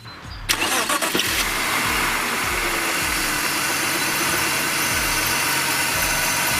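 A BMW E60 diesel car engine cranks briefly and catches, then settles into a steady, close idle with a low rhythmic chug.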